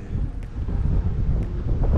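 Mountain wind near Mont Thabor in the French Alps buffets the microphone in a steady low rumble with gusty fluctuations throughout, loud and close, with no voices.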